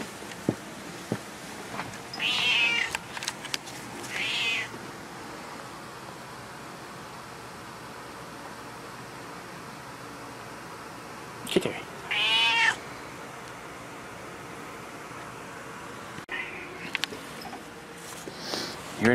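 A domestic cat meows in a few short bursts separated by quiet stretches indoors, with faint soft movement between calls.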